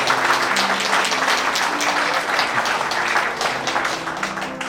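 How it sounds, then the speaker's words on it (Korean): Applause from a wedding crowd fills the room, steady dense clapping that fades slightly toward the end. "큰 박수 한번 부탁드리도록 하겠습니다"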